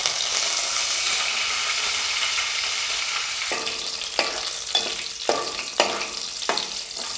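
Seeds, garlic and curry leaves sizzle in hot oil, a dense continuous crackle for a tomato curry, with rhythmic scraping stirs punctuating the frying in the second half.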